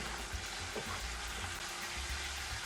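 Chicken frying over a high flame with masala spices, a constant hissing sizzle at low to moderate volume with occasional faint stirring bumps, no voices.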